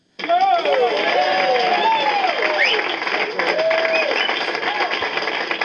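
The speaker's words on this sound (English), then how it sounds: "Thank you for the applause." Audience applause at a stand-up comedy show bursts in suddenly and continues as dense, sustained clapping, with laughter and cheering voices rising over it throughout.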